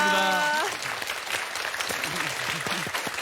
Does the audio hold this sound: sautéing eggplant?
no